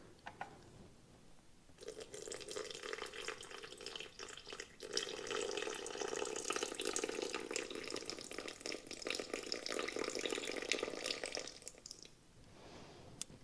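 Water runs in a steady stream for roughly ten seconds as it is poured into a bowl holding sourdough starter for cinnamon roll dough. The sound is faint and close and is heard alone.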